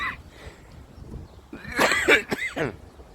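Two or three short, rough coughs close by, following a few quiet breathy sounds, in an otherwise quiet setting.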